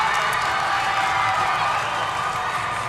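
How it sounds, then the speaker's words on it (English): Fans in the crowd section at a high school competitive cheerleading state final, a steady, fairly loud wash of crowd noise and cheering carried on broad background roar. "You can hear the crowd section right behind us"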